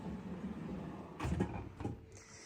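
A kitchen drawer full of Pyrex glass dishes is pulled open, giving a couple of quick sliding rumbles and light clatters against a quiet room.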